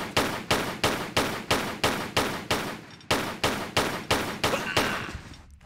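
Lara's pistols fire in Tomb Raider III, a regular run of sharp, loud paired shots about every third of a second, with a brief pause midway before the steady rhythm resumes.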